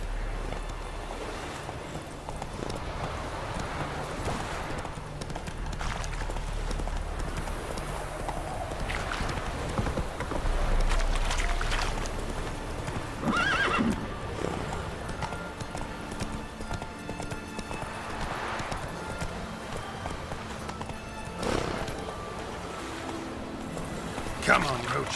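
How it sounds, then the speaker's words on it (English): The horse Roach gallops in the video game The Witcher 3, its hooves clip-clopping steadily over a wind-like ambient wash, fairly quiet and continuous throughout. "Come on, Roach"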